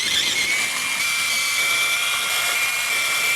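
A power tool whines steadily as it removes screws from a Redcat Valkyrie RC car, one continuous high-pitched close-up drone with no pauses and no voices.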